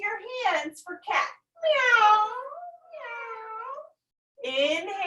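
An adult voice imitates a cat meowing during a cow-and-cat pose in a family yoga session, with drawn-out, wavering meows between spoken instructions, close and clear.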